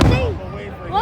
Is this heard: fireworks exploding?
yes